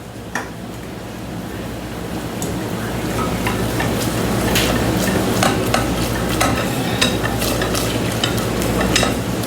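A spoon stirs butter and flour together in a pot over low heat, a continuous scraping, bubbling sizzle with repeated sharp taps against the pot, close and steady with no voices.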